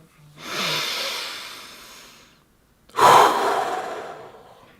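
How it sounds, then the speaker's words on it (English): Two slow, deep breaths: a long, airy inhale followed by a fuller, louder exhale, close up and alone with no talking. "Inhale deeply into your lower belly"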